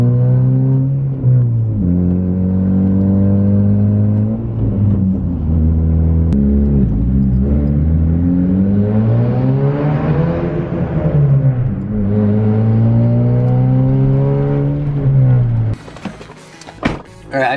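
A Honda Civic FG1 with a straight pipe exhaust drives along, its loud, deep engine drone rising and falling with throttle changes and shifts, ending abruptly with clicks and knocks.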